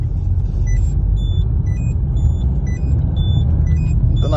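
A 2011 Citroen Berlingo with a 1.6 engine on the move, giving a steady, loud low rumble that holds throughout, with faint short electronic tones beeping now and then above it.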